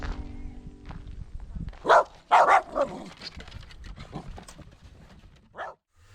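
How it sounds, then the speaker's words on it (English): A dog barks in a few sharp bursts, a quick cluster in the middle and one more near the end, over steady outdoor background noise. "Keeps the dogs active though, they're always running around barking at them."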